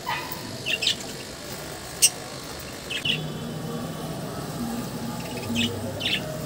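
Pet budgies bathing in a water bowl give off sparse, bright chirps and short tweets in scattered bursts, set against a steady low background hum with no talking.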